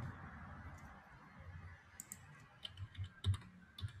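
Keys clatter on a computer keyboard in a few soft clicks and short bursts, quiet at first and growing sharper and more frequent toward the end, with no one talking.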